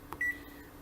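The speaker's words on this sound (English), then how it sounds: "it's not making noises except these stupid beeping noises" A device gives a single short electronic beep, faint and clean, alone against a quiet background.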